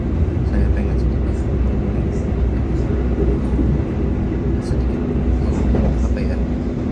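Sancaka passenger train running just after leaving Jombang station, a continuous loud low rumble and rolling rail noise heard from inside, with no clear breaks.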